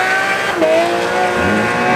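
Lamborghini Murcielago LP670 with a 662 to 670 horsepower engine, revving hard in a loud, continuous roar with rising and falling pitch, close by and heard alone.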